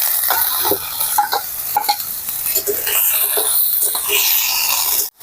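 Onions frying lightly in a pan, with a steady bright sizzle and occasional stirring scrapes running throughout, close and loud, cutting off abruptly at the end.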